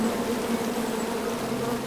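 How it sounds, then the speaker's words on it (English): Steady, continuous buzzing of a swarm of bees in the King's Quest (2015) adventure video game, droning evenly at a moderate level throughout with no voices. "Come at me, bees!"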